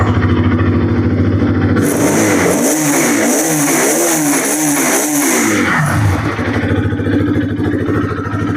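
A 2022 RS 200 motorcycle engine idles and then revs hard in repeated loud, close pulses for about four seconds before settling back to a steady idle.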